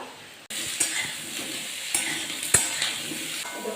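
Potatoes dropped into a pan of onions already fried reddish-brown, setting off a sudden loud sizzle that keeps hissing steadily, broken by a couple of sharp spatter pops.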